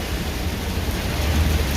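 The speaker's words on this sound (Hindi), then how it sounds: "भगवान ने बारिश शुरू कर दी" Steady rain falls beside a roadside, a dense, even hiss of drops with a low rumble beneath, constant and close throughout.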